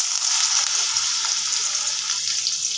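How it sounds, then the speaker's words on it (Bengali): Chopped carrots hit hot oil in a pan and fry with a steady, dense, hissing sizzle that runs unbroken and fairly loud throughout, with no voices. "তেলটা গরম হয়ে গেছে, তো এখানে আমি প্রথমে গাজর কুচিগুলো দিয়ে দেব।"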